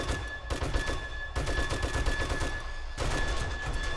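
Rapid automatic gunfire mows down zombie mobs in the video game 7 Days to Die, dense bursts of shots in quick succession with brief pauses between volleys.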